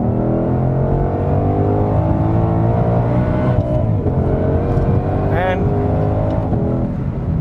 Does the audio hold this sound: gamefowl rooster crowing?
no